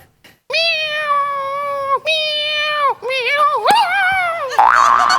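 A comedian on a Marathi comedy stage show imitates a cat, giving a series of loud, drawn-out vocal meows with sliding pitch, followed by a short burst of noisier voice at the end.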